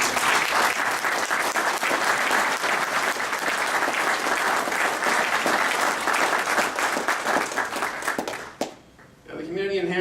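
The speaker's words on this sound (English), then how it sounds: "Let's give him a round of applause." Sustained audience applause at a Rancho Cordova State of the City address, dense steady clapping from a large crowd lasting most of the moment before tapering off, with a voice briefly heard at the end.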